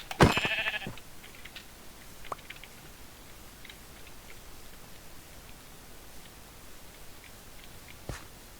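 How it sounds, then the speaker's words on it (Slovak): Sheep in Minecraft bleat once, a loud close bleat at the start, then quiet ambience with faint scattered ticks and a brief sharp sound near the end. "Tu sú dokonca 2 ovce, nice."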